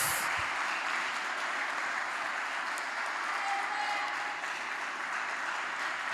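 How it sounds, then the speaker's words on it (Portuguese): A church congregation at a men's ministry family congress applauds the name of Jesus, a continuous wash of clapping heard from some distance at a soft, even level, with faint voices underneath. "Se puder aplaudir o nome de Jesus, faça isso."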